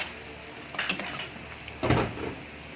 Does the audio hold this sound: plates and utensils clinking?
yes